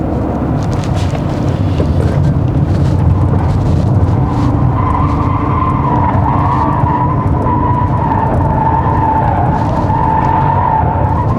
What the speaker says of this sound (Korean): 뒤쪽에 배기음이 좀 더 잘 들리는데, 이게 1열에서는 잘 안 들리는데 2열에서는 풀가속 하잖아요